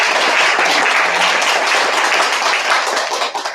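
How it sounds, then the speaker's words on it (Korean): Church congregation applauding together in a dense, steady wash of clapping that fills the room, fading slightly near the end. "권사님께도 또 감사의 박수를 한번 부탁드리겠습니다"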